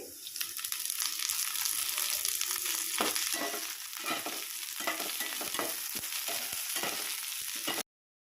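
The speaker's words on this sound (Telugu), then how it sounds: "ఆనియన్స్ వేసేసుకున్నాక గోల్డెన్ కలర్ వచ్చేంత వరకు ఫ్రై చేసుకోవాలండి" Chopped onions and curry leaves sizzle steadily in hot oil in a pan while cucumber pulusu is being made, a continuous close frying hiss with occasional stirring scrapes, no talking, cutting off abruptly at the end.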